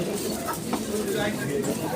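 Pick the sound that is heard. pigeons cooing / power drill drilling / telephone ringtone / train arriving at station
pigeons cooing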